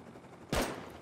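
Single sharp bolt-action rifle shot in the survival game Rust, a loud close crack at mid-clip that decays with a short reverberant tail over low background noise.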